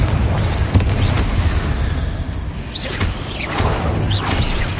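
In a Hogwarts video game, a Confringo spell sets off a blast that rumbles and booms, with a whooshing burst near the middle and a sustained low roar throughout, loud and close, with no talk.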